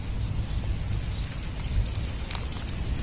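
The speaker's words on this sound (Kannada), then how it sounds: "ಆ್ಯಕ್ಚುಲಿ ಸ್ಟಾರ್ಟ್ ಆಯಿತು ಮಳೆ, ಫುಲ್ಲು ಜೋರಾಗಿ ಮಳೆ ಸ್ಟಾರ್ಟ್ ಆಯಿತು." Rain beginning to fall hard outdoors, a fairly quiet, uniform hiss with no clear individual drops, steady and alone without voices.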